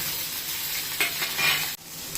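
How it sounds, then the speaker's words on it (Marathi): Onion frying in hot oil with curry leaves and asafoetida, a dense steady sizzle with stirring scrapes, close and fairly loud, with no voices. "कांदा ना छान लाल होतं परतू द्यायचा"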